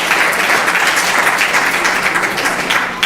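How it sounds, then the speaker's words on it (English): A dense, steady wash of applause from a community gathering honoring volunteers fills the room, loud and sustained throughout with no talk. "please give them another round of applause for always being there for Seva"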